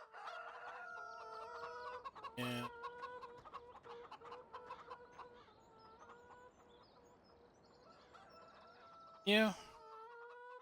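Animated chickens cluck and crow steadily inside a chicken coop in the farming game Farming Simulator 17, with a couple of sharp louder bursts, while someone speaks briefly over the birds.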